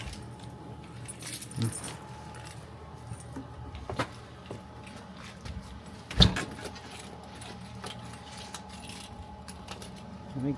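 Keys jangle close to the microphone in quiet indoor surroundings, with a few scattered metallic clinks and one sharper, louder rattle partway through.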